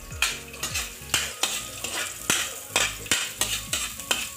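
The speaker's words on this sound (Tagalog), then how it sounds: "So, papulahin lang natin ng kaunti ang bawang." Garlic sautéing in a pan, a steady close sizzle of frying broken by repeated sharp stirring scrapes and clinks of a utensil against the pan, roughly every half second, with no talk.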